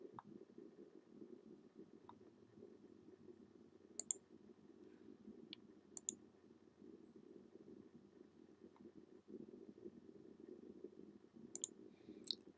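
Several sharp, quiet computer mouse clicks spaced seconds apart during PowerPoint page editing, sitting over a low steady room hum with no talking.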